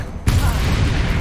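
A Confringo blast spell goes off in Hogwarts Legacy as a sudden loud burst after a brief quieter moment, then settles into a sustained rumbling roar that fills the rest of the moment.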